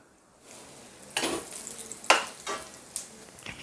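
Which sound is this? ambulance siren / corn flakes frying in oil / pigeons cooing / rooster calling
corn flakes frying in oil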